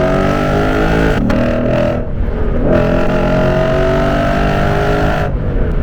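A Lexus RC F with a loud aftermarket-style exhaust revs and accelerates close by, its throaty engine note rising and falling through several pulls with brief lifts between, loud and continuous with no talking.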